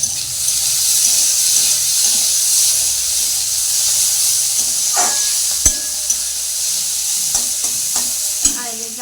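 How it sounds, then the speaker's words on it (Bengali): Vegetable curry fries in a pan with a steady close sizzle and hiss, broken by occasional stirring scrapes and clinks of a utensil against the pan, and no talking. "তো দেখো, আমার ভালো করে তরকারিটাকে ভেজে নিব।"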